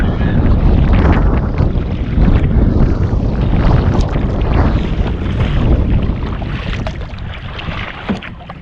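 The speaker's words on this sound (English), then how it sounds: "There's the wind." Wind blows steadily along a river shoreline during a paddling trip downstream, a loud continuous rush buffeting the microphone and mixed with faint water sounds.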